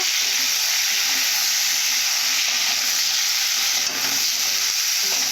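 Onion, potato and drumsticks sizzle and fry together in hot oil for a rohu fish curry, a steady loud hiss of sautéing that runs unbroken throughout with faint stirring scrapes.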